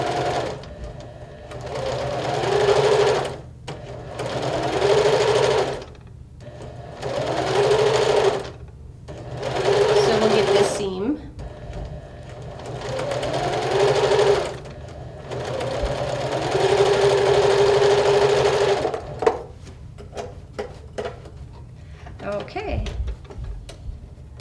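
A sewing machine stitches the sashing seam of a quilt in several runs of fast, steady whirring, separated by brief pauses, with a person talking near the end.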